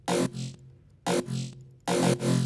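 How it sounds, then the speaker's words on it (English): Three heavy, distorted dubstep bass sample stabs repeat in a steady rhythm, each a loud growling hit with a wobbling tail. "get some dubstep sample packs, and you can download exact sounds like this"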